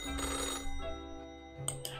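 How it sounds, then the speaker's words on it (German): A telephone rings in the office of the video game Death and Taxes, a faint electronic ring over soft background music, with no speech. "Das Telefon klingelt."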